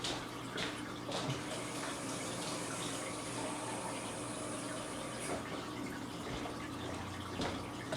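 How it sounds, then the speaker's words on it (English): Tap water runs steadily into a glass, a faint continuous hiss and trickle close by that holds even from start to finish in a quiet room. "I just had to get a glass of water"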